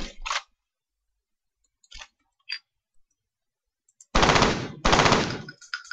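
Weapon fire in the video game F.E.A.R. comes first as scattered single shots and brief bursts separated by silence, then ends in two long, loud automatic bursts close up.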